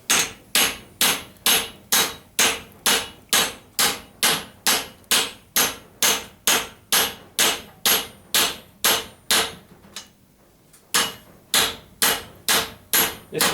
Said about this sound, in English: now I'm going to knock it down a little bit with the hammer.